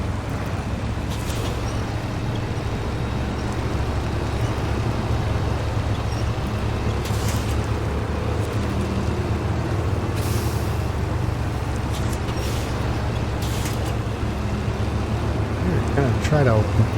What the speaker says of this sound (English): We're gonna try to pull this truck back.